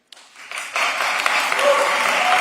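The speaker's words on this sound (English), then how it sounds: "No clapping. No clapping." Audience members at a city commission meeting break into steady applause that starts suddenly and swells, filling the hall with continuous clapping and some voices underneath.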